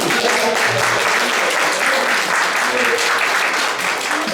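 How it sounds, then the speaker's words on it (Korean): A room full of attendees at a briefing on service standards for day-care facilities for people with disabilities breaks into dense, sustained applause, steady and loud throughout with no voices over it. "박수 한번 부탁드립니다."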